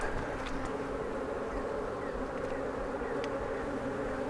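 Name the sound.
honey bees buzzing in beehive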